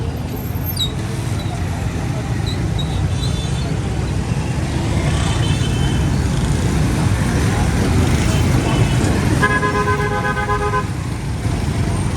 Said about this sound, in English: Look at the traffic in that street.